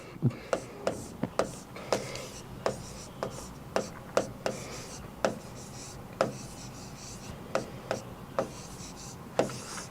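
A pen writes by hand on paper during a maths class, giving a run of scratchy strokes and sharp taps at irregular intervals, close and fairly quiet.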